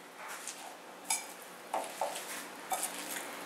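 Cabbage salad dressed with distilled white vinegar being tossed with a big slotted spoon in a bowl: quiet, scattered clinks and scrapes of spoon against dish, close and soft, with no talking.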